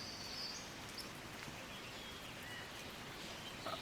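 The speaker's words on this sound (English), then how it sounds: "Oh, there's the rain started." Steady rain falls in the farming video game Farmer's Life, a faint, even hiss of drops with occasional soft bird chirps in the background and no talk.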